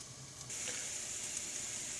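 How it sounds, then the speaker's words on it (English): Steady, close sizzling hiss of peppers roasting in an electric oven, a constant crackling fizz that swells slightly and continues without pause. "the peppers have been roasting for approximately 7 minutes here, and you can really hear them sizzling"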